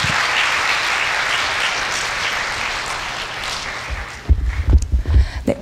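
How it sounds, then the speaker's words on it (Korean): An audience at a university matriculation ceremony applauds a professor in loud, dense, sustained clapping that thins into a few scattered claps near the end. "큰 박수로 맞이해 주시기 바랍니다."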